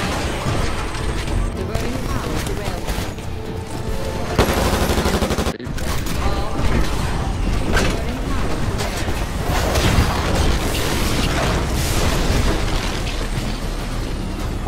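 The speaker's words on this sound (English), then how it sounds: "Spinning up the cannons for another shot." Cannon fire in the Titanfall campaign on Xbox One, a dense and continuous barrage of booming shots and blasts that fills the whole stretch at steady loudness, with battle noise layered throughout.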